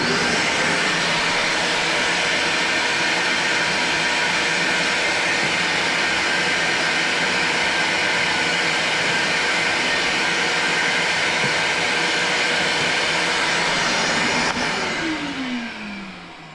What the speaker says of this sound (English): I get my shop vac out and we're going to vacuum out the coil